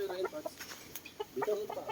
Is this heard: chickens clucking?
yes